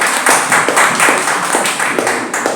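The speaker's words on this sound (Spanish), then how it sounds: "Denle un aplauso." Congregation clapping at a church service, a steady rhythmic burst of hands clapping fairly close and loud, with rough regular beats throughout.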